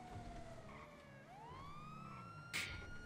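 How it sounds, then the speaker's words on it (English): Police car siren in GTA 5, a faint wailing tone that sweeps down and then back up over low engine and street rumble, with a brief sharp noise burst near the end. "Go ahead and kill your siren, Stuco, too."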